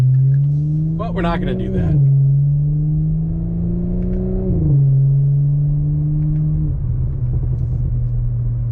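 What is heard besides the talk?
2021 Audi S4 with AWE exhaust revving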